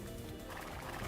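A Scout Cavalry horse in Age of Empires 2 on PS5 gives a single short neigh, fairly loud and up close, heard alone without talk over it.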